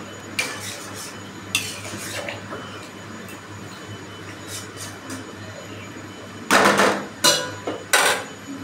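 Fish curry being stirred in a pot after water is added, a ladle clinking and scraping against the metal in scattered close knocks, with a louder cluster of scrapes near the end and no talking.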